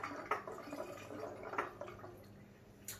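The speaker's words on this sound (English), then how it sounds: "I'm just going to add a bit of water to that." Water poured into a container for a science demonstration, heard as faint, soft trickling with a few small drips and splashes, quiet and close.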